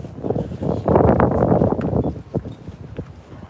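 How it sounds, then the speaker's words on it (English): Strong gusting wind buffets the microphone outdoors near 17th Street and H in Washington DC on a January evening, a loud low roaring rumble that swells and fades in uneven bursts. "Oh, as you can tell, it's super windy. Super, super windy."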